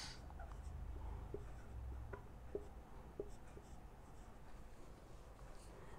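Pen or marker strokes scratch out chemistry resonance structures for an organic acidity lesson, faint and close, with a few sharp taps as the tip meets the surface over quiet room hiss.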